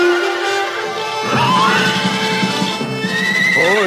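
A horse whinnies loudly and close by, a long shrill neigh rising and falling, followed by a second higher whinny at the end.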